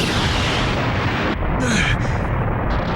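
Heavy, rumbling explosions from a long-range bombardment boom continuously, loud and dense, with a brief voice heard in the middle, in an anime episode.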